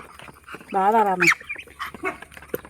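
A domestic duck gives one loud, harsh honking quack close by, with people talking quietly around it.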